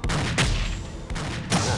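Gunfire in the video game Aliens versus Predator 2: a rapid run of four loud, close, punchy shots over a dense, noisy game backdrop.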